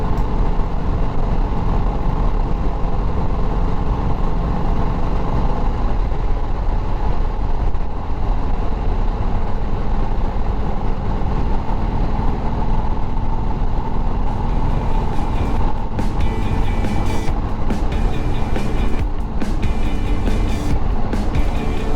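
A Harley Davidson WLA motorcycle engine runs steadily while riding, a loud, constant low rumble with wind noise and no talking.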